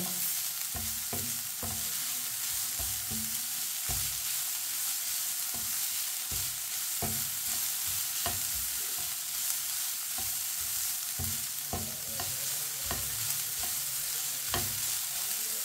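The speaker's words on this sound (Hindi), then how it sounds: "ऐसे ही चम्मच चलाते हुए गाजरों को 2 मिनट के लिए पका लेना" Carrots fry in a pan while a spoon stirs them, a steady sizzle punctuated by repeated close spoon knocks and scrapes at an uneven rhythm.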